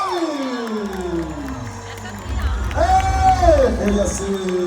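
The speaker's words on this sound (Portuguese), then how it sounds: "De Janaúba, salve de palmas para ele!" A festival crowd at a São João quadrilha dance cheers and claps in a loud, swelling roar, with an announcer's amplified voice and shouts mixed in throughout.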